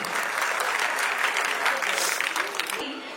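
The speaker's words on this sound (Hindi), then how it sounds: "एक बार हमारे चीफ गेस्ट और रिपोर्टर्स के लिए एक बार जोरदार तालियां बजा देंगे" Audience applause fills the hall at a school cultural program honoring the chief guest and reporters, a steady, even wash of many hands clapping that stays strong for three seconds before thinning out at the end.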